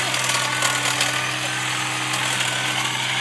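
A Gtech cordless hedge trimmer runs steadily on an old privet hedge, its high motor whine and blade chatter continuing loud and close without a break.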